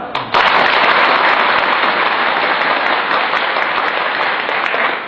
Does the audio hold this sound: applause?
yes